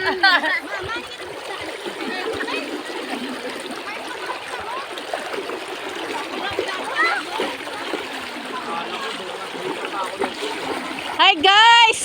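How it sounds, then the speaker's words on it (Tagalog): A river in Leyte rushes and splashes steadily at close range, with children's voices and family chatter carrying over the flowing water throughout. "Pasulog ang tubig guys."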